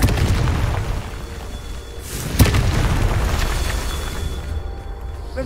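A sharp explosive boom from a Confringo spell in a wizarding game, one sudden burst about midway rising out of a steady rumbling background, with no voices.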